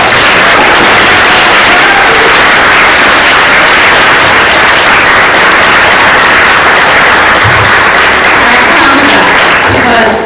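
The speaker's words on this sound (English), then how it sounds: "I would like for you guys to give them another wonderful round of applause." A theatre audience at a Templeton Theatre Series staging of A Man For All Seasons gives a long, loud, unbroken round of applause that fills the hall before tapering at the very end.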